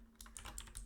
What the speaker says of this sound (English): then we'll type grep